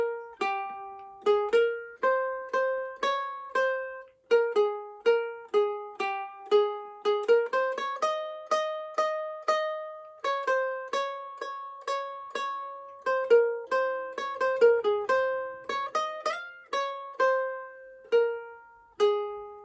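A ukulele plays God Save the Queen, the British national anthem, one plucked note at a time at a steady, moderate pace, clear and close, with no voice over it.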